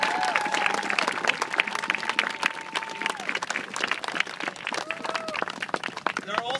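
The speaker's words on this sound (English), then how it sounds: "Let's hear a round of applause for everyone who was able to show up." A crowd applauding outdoors at a walking event, with dense scattered clapping throughout, mixed with a few whistles and some voices in the background.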